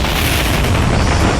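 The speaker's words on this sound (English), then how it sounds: "It's pretty epic whenever a building is shot down from the air." A StarCraft 2 building gives way under air attack during a GSL Season 3 match, a dense, loud rumbling boom of explosions that rolls on steadily throughout with no talk over it.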